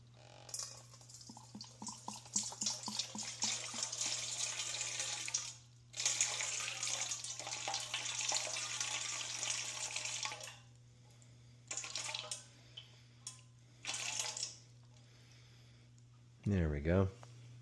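Water pours in bursts from a tap into a container to measure it for a sourdough starter, with stops and restarts over a steady low hum and a short clatter near the end.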